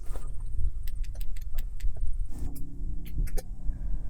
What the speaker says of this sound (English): Using the key fob, press the middle lock button 3 times.